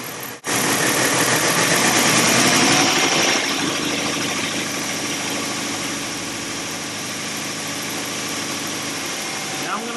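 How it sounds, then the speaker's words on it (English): Car engine idling steadily and loud, its revs lifted briefly near the start before settling back to an even, continuous hum with a slight vibration. "Now I'm going to raise the idle here a little bit"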